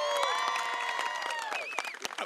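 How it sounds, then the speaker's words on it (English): An outdoor ribbon-cutting crowd for a Prime Title & Escrow opening with the Greater Kansas City chamber of commerce. Steady applause and cheering mix with excited voices and whoops, loud and sustained throughout. "Let's give a round of applause"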